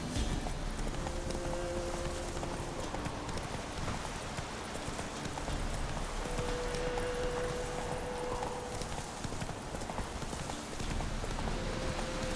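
Horse hooves gallop steadily through The Witcher 3: Wild Hunt on Nintendo Switch, a continuous clip-clop rhythm over ambient game sound, with no talking.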